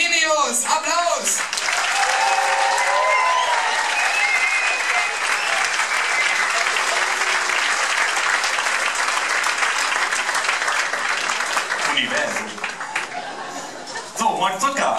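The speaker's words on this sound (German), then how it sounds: "Applaus!" Loud, sustained audience applause fills a stand-up comedy show in Stuttgart, a dense wash of clapping lasting over ten seconds, with a host's voice briefly heard at the start and end.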